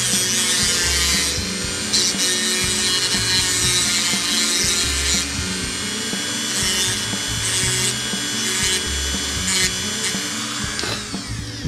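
Rotary tool grinding a bevel onto the ear of a Heritage Rough Rider revolver hand, a continuous close, loud high-pitched whine with steady grinding and rubbing, briefly easing and resuming throughout.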